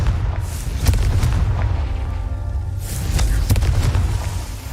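A Confringo fire spell explodes in the video game Hogwarts Legacy with a heavy booming blast, followed by rumbling low bursts and crackling debris over a sustained loud background.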